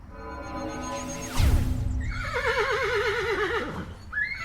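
Several horses whinny loudly in a fantasy tabletop game scene, one long descending neigh followed by wavering, rising whinnies from two or three animals, with faint hoof clops and a low rumble beneath.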